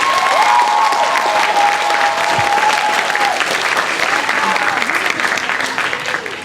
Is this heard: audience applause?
yes